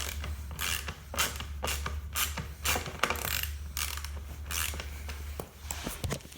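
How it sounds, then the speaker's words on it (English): Bolt being loosened on a bike, a rapid series of creaking, ratcheting clicks in bursts, close and fairly loud over a low steady hum. "So I loosened up this bolt right here."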